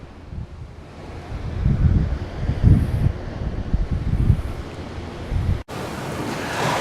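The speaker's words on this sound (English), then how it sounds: "Like the waves on this beach" Ocean waves roll onto a beach in repeated surging washes, loud and close with heavy wind buffeting the microphone, then a sudden cut to a steadier roar.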